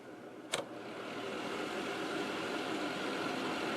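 A Vornado Evap40 4-gallon evaporative humidifier runs loudly, a steady broadband whoosh of its fan that starts after a brief click and holds constant, with no talking.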